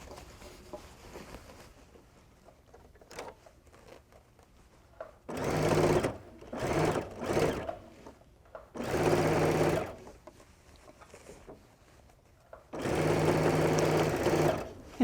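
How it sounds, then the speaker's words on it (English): A sewing machine stitches a handbag seam through gathered fabric in three short bursts. One burst comes as quick stop-start pulses and the last is a longer steady run, with quiet handling sounds in the pauses. "I'm stitching right over that second line of gathering stitches that I talked about before"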